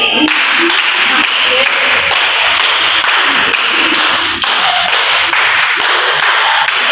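A group of children claps in crisp, rhythmic sets during a classroom clapping routine, sharp hand strikes repeating in quick patterns, loud and near, with faint voices underneath.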